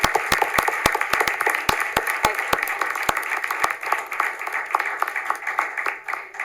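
Town board meeting room fills with applause for a retiring sergeant: sharp individual claps at first, then a softer, even patter from the seated crowd, moderately distant and unbroken by speech.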